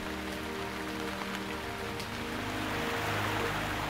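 Torrential rain pours down steadily, a dense close hiss of heavy drops drumming on surfaces that holds without a break and swells slightly toward the end, with no voices.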